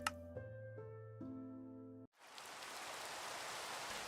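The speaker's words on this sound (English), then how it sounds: "Oh, it's raining." Steady broadband rain wash from the Minecraft game, Java edition, sets in abruptly halfway through after sustained musical tones stop, continuing evenly and fairly loud with no talk.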